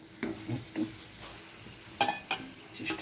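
Masala for a fennel-spiced pabda fish curry sautéed in a pan, with a low sizzle and a few short clinks and scrapes of a spatula, close and without talk.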